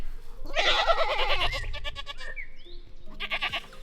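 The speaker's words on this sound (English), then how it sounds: "I'm going to carry this on with the goats in the background." Goats bleat loudly and repeatedly nearby, their wavering cries filling the first half and returning near the end over a steady outdoor background.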